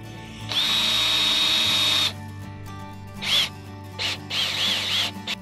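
A power drill bores holes during a floor installation, with one long sustained whine followed by several shorter bursts, loud and close with no talking.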